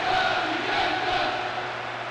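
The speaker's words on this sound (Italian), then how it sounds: "Sentite, i tifosi vicentini provano a incitare la squadra" A crowd of Vicenza football fans in a Serie A video game match cheers and chants as a steady, distant roar.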